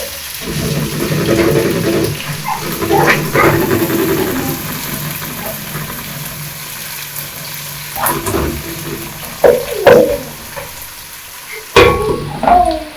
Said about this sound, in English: So next we are going to add our ginger and cook it a little bit.